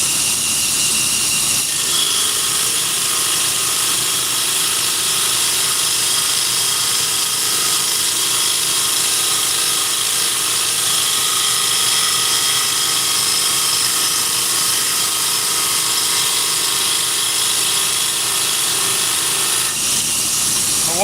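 Knife blade being ground on a power grinder near the ricasso, a loud continuous hissing grind that holds steady and close for the whole stretch with no talk.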